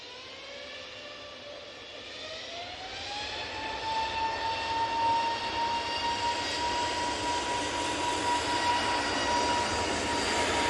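Hainan Airlines Airbus A330 jet at Manchester Airport, its engine roar building steadily and holding loud and close with a rising whine, no talking.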